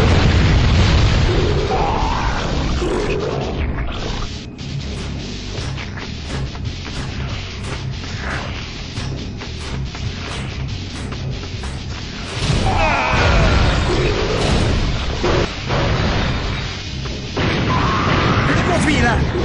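Explosions from the PSX Spider-Man video game: repeated deep booms and crashing bursts rumble through a loud, continuous mix of game sound effects.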